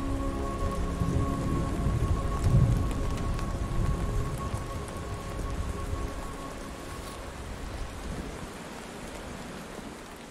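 Heavy rain drums steadily on surfaces while a low rumble of thunder rolls through the first half and then fades, leaving the downpour to carry on alone.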